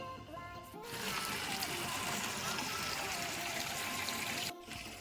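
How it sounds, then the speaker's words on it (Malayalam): Water pours into basins for a guppy pond, a steady splashing gush that starts abruptly, runs loud and even for several seconds, then cuts off. "ഇത്രയും പാത്രത്തിൽ നമ്മൾ വെള്ളം നിറച്ചു."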